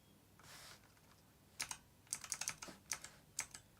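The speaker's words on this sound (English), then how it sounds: "Oh, and I'm pressing all the wrong buttons." Computer keyboard keys are pressed during a live gaming stream of Little Nightmares 3, a quiet scatter of sharp clicks in an irregular burst with a short pause, close to the microphone and without speech.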